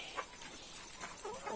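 Chickens feeding on hydroponically grown corn, heard as a soft, dense, continuous clucking and rustle from several hens, faint and steady with no talk.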